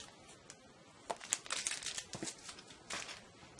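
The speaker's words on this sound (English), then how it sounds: "I peeled this one off already, and I'm peeling this one off." Protective coating peeled off an iPhone 5 case insert, close, faint crinkling and tearing in short bursts over a few seconds.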